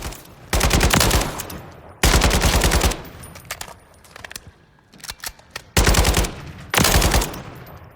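AK-103 rifle firing on a Call of Duty Modern Warfare III firing range: loud sustained automatic bursts close by, broken by short gaps and a few quieter scattered shots, with no speech.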